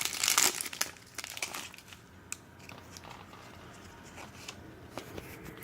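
A Pokemon card booster pack wrapper is torn open: a loud crinkling rip up close at the start, then softer crinkles and small plastic rustles as the foil is handled.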